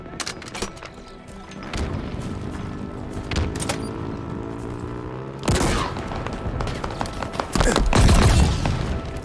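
Gunfire and booming explosions in a Halo Infinite Big Team Battle match, with dense bursts of shooting and heavy impacts layered over a steady battle roar, growing louder toward the end.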